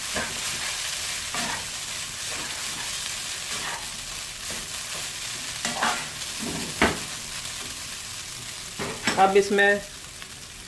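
Coconut powder and mustard seeds stirred and frying in a pan over low heat, with scattered scraping strokes and a soft sizzle, plus a brief louder clatter near the end; a voice speaks briefly at the start.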